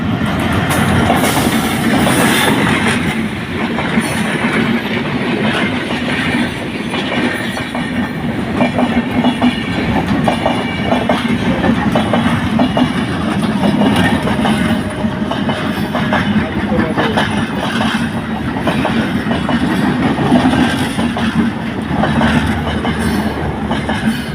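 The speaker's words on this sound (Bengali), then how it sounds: "এই যে ট্রেন তো ট্রেন এসে গেছে" A train rolls past at close range near Sirajganj, a loud, steady clickety-clack of wheels and rumbling carriages lasting throughout with no talk.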